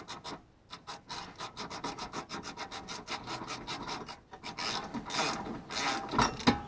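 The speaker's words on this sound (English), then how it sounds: "Make sure ratchet's on loosening. Give it a couple cranks." Rapid ratchet clicks loosen a bolt on a BMW E36 strut during a coilover install, coming in quick bursts of cranks with short pauses, close and clear with no talking.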